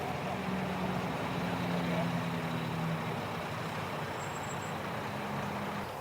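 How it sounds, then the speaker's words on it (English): A Leyland Titan PD3A bus in Leicester City Transport livery moving along at a bus festival, a steady droning diesel engine hum that holds fairly level and then eases off slightly toward the end. "this Leyland Titan PD3A, making its way down towards the display area"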